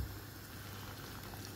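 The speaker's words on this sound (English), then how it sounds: "start bringing these to the boil" A pot of vegetables and sprouts comes to the boil, giving a steady, dense bubbling hiss that stays even and close throughout.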